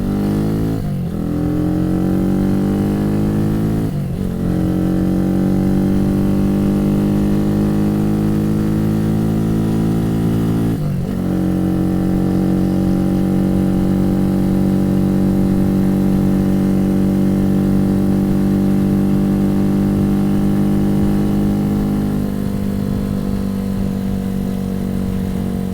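A Janus 250 motorcycle engine with a short-pull throttle runs steadily at a near, loud level under barely any throttle, giving a smooth harmonic drone with a few brief blips where the pitch rises and settles.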